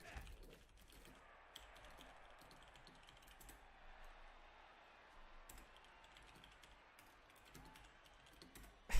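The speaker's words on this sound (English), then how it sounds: "I can just type to him in game" Quiet, irregular bursts of computer keyboard keystrokes, typing a chat message during an online game, with light clicks scattered throughout.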